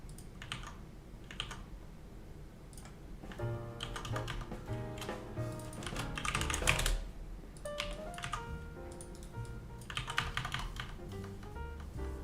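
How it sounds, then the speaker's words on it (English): Mechanical keyboard typing, a steady run of clicky, clattering keystrokes in quick bursts, close and fairly quiet, with no voices over it. "My keyboard sounds really satisfying. I've always had mechanical keyboards because I like the clickety clack."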